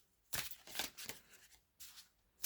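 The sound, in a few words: shuffling tarot cards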